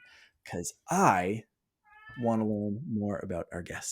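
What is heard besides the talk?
house cat meowing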